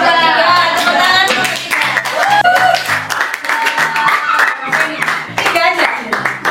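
An eleventh-grade classroom claps for the winning group, with rhythmic hand claps mixed with excited voices and chatter, close and loud.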